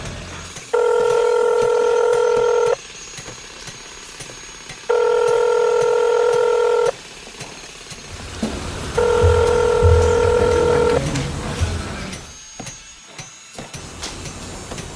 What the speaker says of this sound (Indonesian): saya coba telepon dia